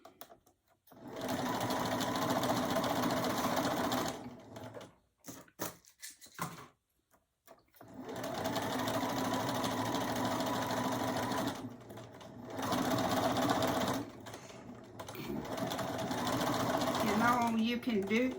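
Domestic sewing machine stitching a hem, running loud and close in long continuous bursts with brief stops and restarts between runs.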